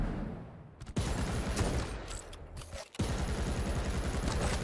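A super nail gun in a Quake Champions duel fires in rapid, dense bursts, a rattling mechanical stream broken by a couple of brief pauses.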